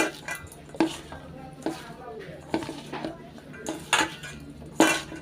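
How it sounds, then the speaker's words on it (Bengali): Taro stolons being hand-mixed with mustard oil and spices in a dish, giving soft irregular squelches and clinks of a bowl in a close, quiet series, with occasional sharper knocks. "একটু সর্ষের তেল দিয়ে ভালো করে এই মিশ্রণটিকে মাখিয়ে সুন্দরভাবে মাখাতে হবে"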